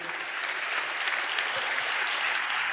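A church congregation clapping hands together in praise, a dense continuous patter of many hands filling the room, steady and fairly loud.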